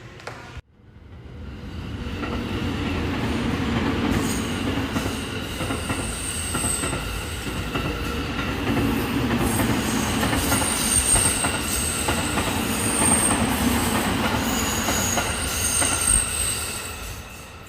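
Train rolling at the former Union Station in Omaha, a loud continuous rumble with squealing wheels and faint clicking on the rails, sustained throughout.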